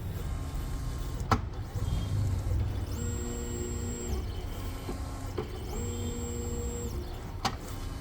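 A screen protector film cutting machine runs with a steady motor hum, giving two long whirring cutting passes with a faint rising whine, close and alone with no talk.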